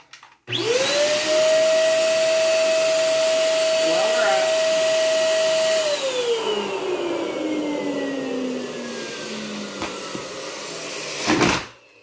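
A stuffing machine blows up a double neck bobo balloon with a loud, close whooshing roar and a rising motor whine. The whine holds steady, then winds down and fades, ending in a short burst near the end.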